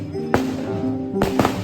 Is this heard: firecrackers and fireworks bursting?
yes